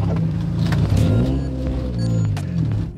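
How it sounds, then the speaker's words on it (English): A supercharged four-cylinder car engine revs up close with a rising mechanical supercharger whine, pulling strongly, easing off, then building again. "it's almost like a Hellcat whine almost in a four-cylinder"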